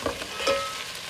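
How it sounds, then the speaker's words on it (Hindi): Macaroni is dry-roasted in a pan, giving a brief close sizzle with light stirring scrapes and no voices. "ये दो से तीन मिनट हो गए हैं इसको भूनते हुए"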